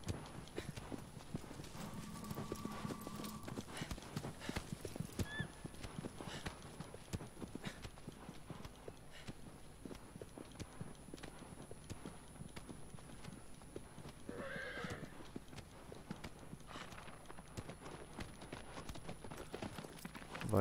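A horse galloping in the video game Shadow of the Colossus, a fast, steady clip-clop of hooves running on throughout, with brief other game sounds layered over it.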